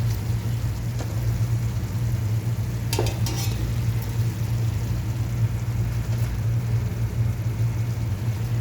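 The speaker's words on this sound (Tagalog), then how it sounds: "ilalagay ko na ang isda" Fish sizzles steadily in a frying pan, a constant crackling hiss with a low hum underneath and a brief clatter of utensils partway through.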